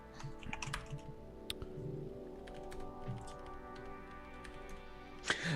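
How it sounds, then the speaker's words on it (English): Rapid, irregular keystrokes tapped on a computer keyboard while entering text into a character-creation website, steady clicking over a low room hum with a brief louder clatter near the end. "I'm just typing in different things"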